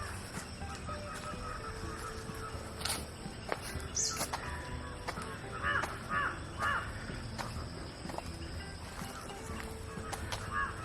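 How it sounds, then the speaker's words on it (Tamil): Crows caw repeatedly at a moderate distance, with scattered clicks and soft outdoor noise around them. "குருவி சத்தம்லாம் கேட்குதுங்களா"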